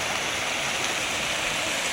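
A motor-pumped water fountain splashes in a steady, dense hiss, loud and continuous with nothing else heard.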